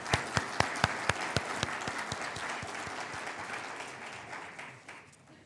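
Summit audience in London applauds for the management team, opening with a few loud distinct claps that swell into a steady wash of clapping, then gradually fades out.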